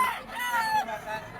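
A gamefowl rooster crows nearby at a farm in Lipa, Batangas, one drawn-out call with other chickens and faint voices in the background.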